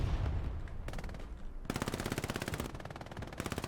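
Machine gun fire from a building in the Hell Let Loose video game at Stalingrad, with rapid sustained bursts that are loud and close, broken by short gaps and mixed with further gunfire.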